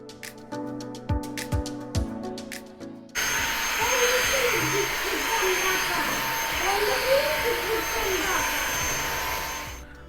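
A Dibea Yasomi G22 cordless vacuum cleaner with mop attachment starts after a few seconds of talking and clicks, then runs with a loud steady whine and airy roar, its pitch wavering as it moves across the floor.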